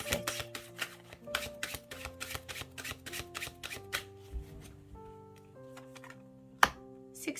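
Tarot cards are shuffled and laid out, giving rapid riffling flutters followed by separate soft slaps of cards being placed down, and one sharp tap near the end, all heard over soft background music.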